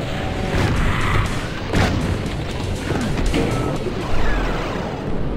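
Heavy meteor-shower impacts and ground shaking in the game DOOM, a dense continuous rumble punctuated by several booming crashes close by, with no talking.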